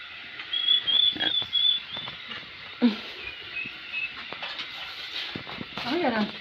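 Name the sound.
hungry ducks quacking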